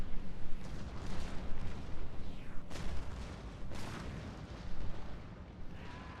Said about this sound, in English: the artillery is ripping these guys to shreds